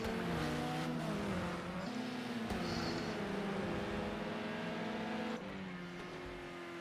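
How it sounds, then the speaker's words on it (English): Race cars at the Long Beach street circuit scream through their gears, a loud, sustained engine whine with rising and falling pitch and a sharp shift partway through. "Austin Ron, still the fastest front-wheel drive car today."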